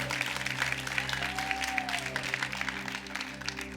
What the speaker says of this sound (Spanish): Vamos, den un fuerte aplauso.